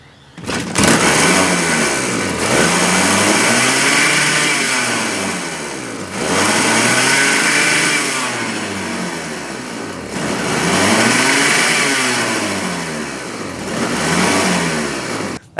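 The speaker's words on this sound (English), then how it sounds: "the engine with the turbo was running very rough for some reason" Turbocharged engine in a coffin-shaped build starts up and runs rough, loud and close, with uneven surging revs that rise and fall in slow waves throughout.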